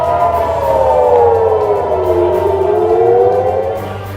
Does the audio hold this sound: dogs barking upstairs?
no